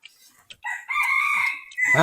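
A wild junglefowl rooster crows close by in the forest, a short, harsh, ringing call after a few faint clucks, with a voice starting at the end.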